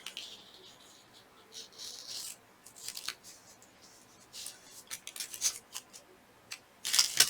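Washi tape being cut with scissors, a few short, quiet snips and crinkles of tape spread over several seconds, close by with no talking.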